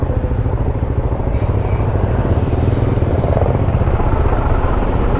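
Loud, steady motorcycle engine drone and wind rumble while riding along a road, heard close up from the bike, with faint higher tones briefly over it.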